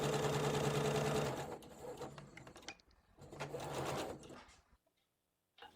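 A sewing machine runs a steady, fast top-stitching seam along an elastic waistband, stopping, then starting again for a second burst before falling quiet.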